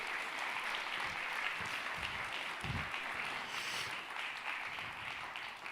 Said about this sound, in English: let's take a moment and give a huge round of applause to Maggie and Alec.